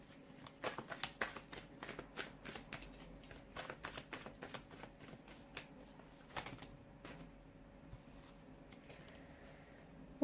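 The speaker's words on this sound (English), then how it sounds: "give the cards a shuffle" Tarot cards shuffled by hand close up, giving a dry, papery riffling crackle in quick uneven bursts over the whole stretch with no talk.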